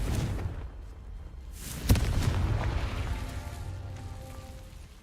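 A Confringo spell explosion in Hogwarts Legacy, a deep rumbling boom with a sharp burst near the middle that fades into a long low roar, no voices.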